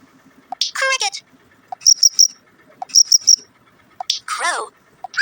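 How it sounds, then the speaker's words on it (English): A cricket chirps in quick triple pulses, repeated a few times, interspersed with other short animal calls, clear and close in a quiet setting. "Cricket."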